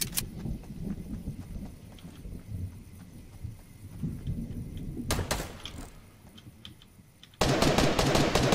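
A sniper rifle shot in Fortnite, a sharp loud crack near the end standing out against busy, low-level game noise and rattling.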